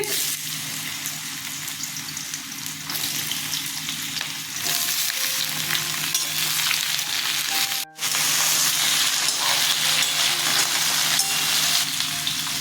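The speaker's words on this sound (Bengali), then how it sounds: "তেল গরম হয়ে গেছে, আমি কুমড়োগুলো ছেড়ে দিচ্ছি।" Pieces of ash gourd fry in hot mustard oil in a kadai, giving a loud, dense, continuous sizzle heard up close, with a brief dip near the end before the steady frying resumes.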